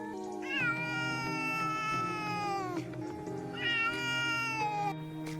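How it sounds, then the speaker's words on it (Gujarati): A cat meows twice in long, drawn-out calls, each rising then sliding down in pitch, close and clear with a low steady hum underneath and no talking. "ચાલો આપણે બિલાડીનો અવાજ અને તેનો વિડિયો જોઈએ."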